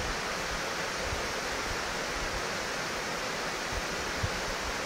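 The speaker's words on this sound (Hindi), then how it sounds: "पहाड़ से पूरा झरना बहते हुए आ रहा है।" A mountain waterfall roars as a steady broadband rush, constant and fairly loud, with no voices over it.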